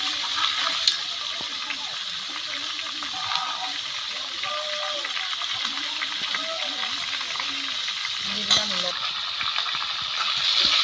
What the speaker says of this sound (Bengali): চিকেনটা ভাজা ভাজা করে রান্না করলে টেস্টি হয়